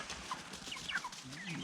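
Faint clucks and short chirping calls come from a crowd of chickens and roosters inside a chicken coop, scattered and overlapping at low volume with no talk.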